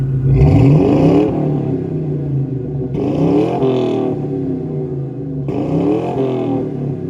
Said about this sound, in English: So now here is what the Mustang sounds like.